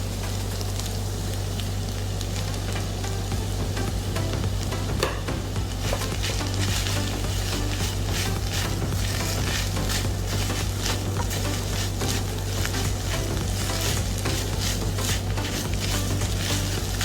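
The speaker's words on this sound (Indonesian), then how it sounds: "Aduk terus ya teman-teman ya." Tempeh sizzling in a frying pan with basil leaves while being stirred, a steady crackling fry with scraping and clinking of the utensil throughout, no talking.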